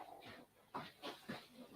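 A puppy whimpering nearby, several short rising whines and soft yelps spaced about a quarter second apart, fairly quiet against a still background.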